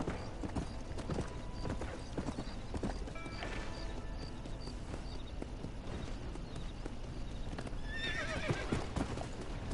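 Horse hooves clip-clop steadily in the Red Dead Redemption video game while a horse neighs and whinnies, with a louder whinny near the end over continuous game ambience.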